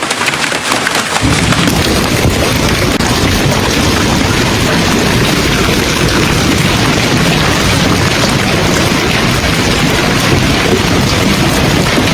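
Severe early-summer hailstorm on the Central Plains, with dense, loud hail and rain pounding steadily and continuously across surfaces, a rumble of thunder underneath, no voices.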